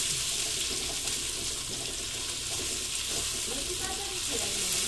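Onion fries in a pan for menudo with a loud, steady, continuous sizzle that fills the scene, and faint stirring movement underneath.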